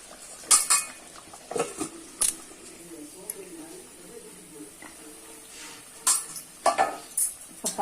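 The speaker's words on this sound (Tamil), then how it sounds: "அடி பிடிக்காம நம்ம கிளறணும்" A spoon stirring chicken dum biryani in a metal pot, with sharp scraping and clanking strokes in bursts over a faint background hiss, close by.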